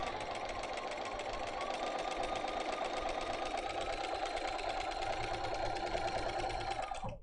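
Sewing machine stitching quilt pieces, a steady rapid mechanical whirr running continuously at close range before stopping abruptly at the end, with no talking.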